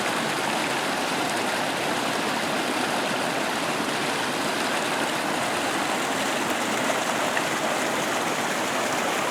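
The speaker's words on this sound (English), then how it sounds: "Pretty little stream." A small, clear mountain stream flows in a steady, continuous watery rush, close by and unbroken, with no voices.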